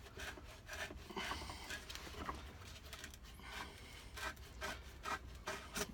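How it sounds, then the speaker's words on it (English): A metal file rasps back and forth in short repeated strokes, reaming out a hole in a wooden cigar box guitar body, close up with no talking. "So we're using a file to ream out the hole"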